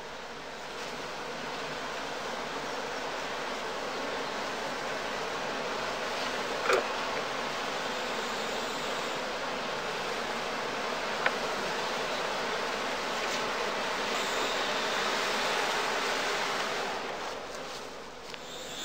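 Honeybees swarm around a Lüneburg straw skep hive in a heathland apiery, a steady, broad buzzing drone that holds at an even level throughout with no voices.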